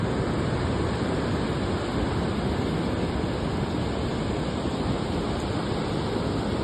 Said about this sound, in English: Nice sized waves, yeah.